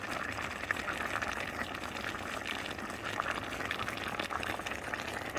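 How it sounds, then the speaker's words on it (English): Pork stew with tomato and leeks boils in a pot, giving off a steady, close, dense bubbling and hissing that continues without a break. "So we're gonna boil this real quick."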